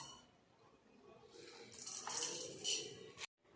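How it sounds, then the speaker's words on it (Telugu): Spoonfuls of coriander seeds go into a pan for homemade sambar powder, making faint, close rattling pours in two or three short bursts over a quiet kitchen background. A soft clink follows before the sound cuts off. "దీనితో 2 స్పూన్ల ధనియాలు వేస్తున్నాను."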